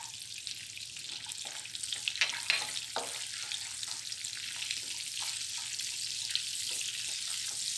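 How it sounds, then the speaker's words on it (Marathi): Ginger and garlic sizzle and fry in butter in a pan, a steady close crackle with occasional stirring scrapes, no voices. "परतून घेणारे आलं आणि लसूण"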